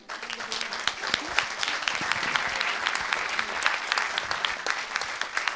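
An audience at a doctoral student presentation event claps with a sharp, dense burst of applause that carries on steadily throughout, close and lively.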